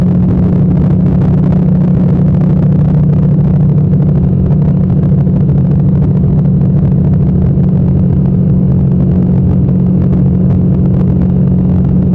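A small training aircraft's engine drones steadily in flight, a loud, constant close rumble with a strong low hum that holds without change throughout, no voices over it.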